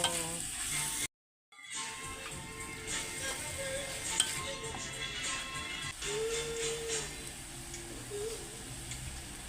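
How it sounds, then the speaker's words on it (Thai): Steady sizzling and crackling of pork intestines stir-frying in a pan, with occasional stirring scrapes and a brief dropout near the start. "แล้วก็เอามาผัดเข้ากันเลยค่ะ"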